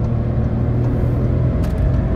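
A 2023 Volkswagen Virtus 170 TSI automatic cruises on a highway while overtaking, heard from inside as a steady, loud low rumble of engine and road noise with no clear acceleration swell.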